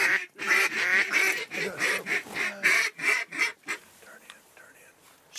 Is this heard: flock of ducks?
yes